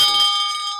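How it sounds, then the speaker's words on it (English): A bell rings at a morning devotion gathering, a single clear struck tone with bright overtones that sustains and slowly decays, moderately loud and alone without talk. "they ring the bell."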